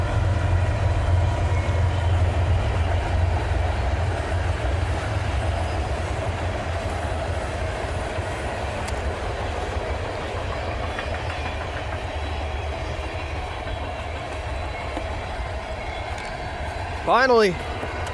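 A Norfolk Southern train passes Glendale Park in La Crosse, Wisconsin, with a steady, loud rumble and rail clatter throughout. A person speaks briefly near the end.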